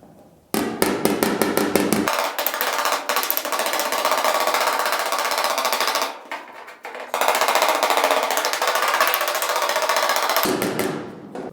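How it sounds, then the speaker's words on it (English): A hammer taps rapidly and repeatedly on a steel car body panel of a GTO held against a dolly, with sharp metallic ringing strikes close up. Two long bursts are split by a short pause. "And then we'll just tap on it with the hammer."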